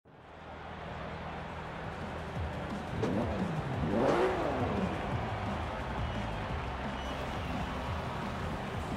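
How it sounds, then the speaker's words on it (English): A Porsche Carrera with a 3-liter flat-six drives in Forza Horizon 4, its engine droning steadily and rising in pitch as it revs up and eases off, with a voice speaking over it. "it has a 3-liter, I believe it's a flat 6. Time to take it out on the road"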